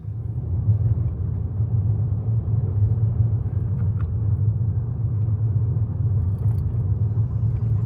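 A car drives along a road up into the Dandenongs near Melbourne, heard from inside as a steady, loud low rumble of engine and tyres with no talking.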